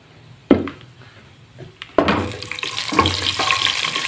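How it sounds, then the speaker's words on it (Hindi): Whole spices, including black cardamom, bay leaves and cloves, drop into hot ghee with a soft clatter and then a rising, steady sizzle that keeps frying close by. "ये अभी हम घी में डालेंगे खड़े मसाले।"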